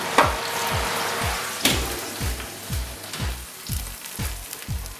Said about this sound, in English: Look at all that yummy sizzlingness